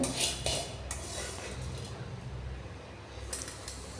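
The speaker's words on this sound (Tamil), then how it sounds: "நான் ஒரு சின்ன தட்டில் வறுத்ததை எடுத்து வைக்கிறேன்" Roasted dried chillies being scooped from a kadai onto a small plate, soft scraping and light clinks of a spoon against metal, fairly quiet and intermittent.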